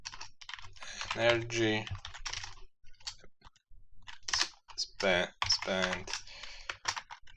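Computer keyboard typing while writing code in Unity, the light clicking running underneath steady close-up talk from a man throughout.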